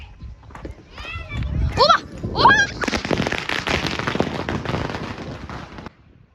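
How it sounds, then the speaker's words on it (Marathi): Firecrackers set off at a wedding, a dense, loud crackling barrage lasting several seconds that follows the excited voices of children. "आता हे बघा फटाके लावताय."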